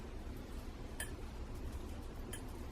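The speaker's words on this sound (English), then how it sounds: "scrape down our gluten-free self-raising flour bowl" A utensil scraping down a mixing bowl of gluten-free self-raising flour, with a faint steady scraping under two brief light clinks of utensil against the bowl, close and quiet with no talk.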